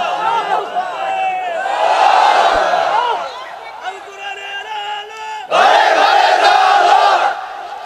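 A crowd at an outdoor Islamic sermon gathering shouts a takbir in loud, massed unison, two long surging cries with a brief dip between them, voices blending into a roaring chant.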